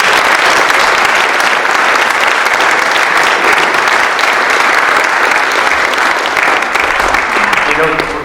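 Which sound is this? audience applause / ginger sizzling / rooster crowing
audience applause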